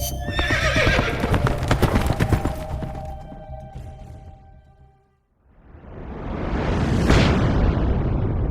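Horse hooves clip-clop in a quick steady rhythm in Metal Gear Solid Peace Walker, close and loud, with a neigh and whinny mixed in, then fade out before a rising rumbling whoosh swells and takes over.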